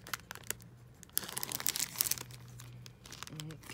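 Crinkling and tearing of thin plastic shrink wrap on a doll clothes package, close up, in irregular bursts with a brief low voice murmur near the end.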